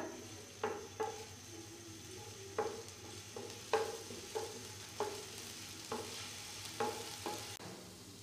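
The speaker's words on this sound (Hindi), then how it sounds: "और इस थोड़ा सा इसको हल्का सा फ्राई करना है आपने ब्राउन नहीं करना" Garlic ginger paste fries lightly in a pan with a soft, faint sizzle, while a utensil stirs it and taps the pan about once a second in short scraping knocks.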